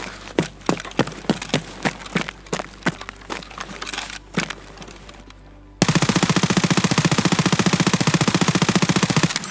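P90 submachine gun in Escape From Tarkov, first firing a series of separate close single shots, then breaking into a loud, continuous rapid-fire burst lasting several seconds.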